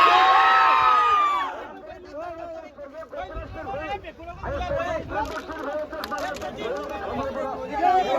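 Crowd cheering after a bullock cart race, opening with loud whooping shouts that settle into excited chatter and scattered yells from many people, with voices throughout.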